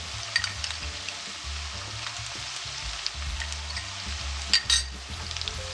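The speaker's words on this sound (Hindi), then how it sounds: "दो से 3 मिनट के लिए मैं अदरक को भी सौते करूंगी" Ginger and garlic sizzle and fry with sautéed onions in a karahi for chicken green chilli lemon karahi, a steady crackling hiss broken by occasional clinks and scrapes of a spoon stirring against the pan.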